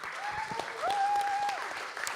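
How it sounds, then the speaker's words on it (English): Continuing round of applause from a live audience at an art event, full crowd clapping that holds steady, with a brief tonal whistle-like tone briefly rising above the clapping midway. "And keep the round of applause going for Bjorn for putting on the whole crystal ship."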